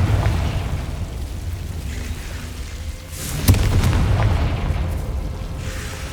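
Confringo fire-blast spell in the video game Hogwarts Legacy, a dense rumbling explosion with a sharp burst partway through, loud and close over a steady game background.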